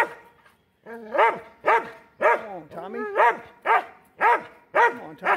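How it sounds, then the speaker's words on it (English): A dog barks repeatedly outdoors near a Craftsman lawnmower under repair, about eight close, loud, evenly spaced barks with whining tones, and a voice speaking in between. "We'd irritate the dog, Tommy."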